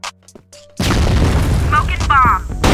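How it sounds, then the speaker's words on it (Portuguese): A grenade explodes in a multiplayer shooter video game, a loud booming blast that lingers as a rumbling roar while players talk over it. "Granada!"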